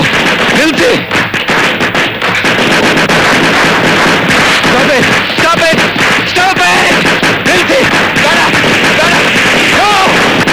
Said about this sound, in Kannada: ಈ ಪಟಾಕಿ ಶಬ್ದ ಕೇಳಿದ್ರೆ ನೀನ್ ಯಾಕೆ ಇಷ್ಟೊಂದು ಹೆದರ್ಕೋತೀಯ?